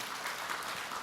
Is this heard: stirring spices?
no